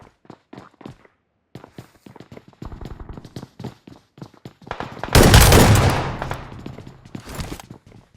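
Shotgun fire in the mobile battle royale BGMI: a sudden loud, crackling burst of gunfire near the middle, preceded by quick in-game footsteps and scattered clicks.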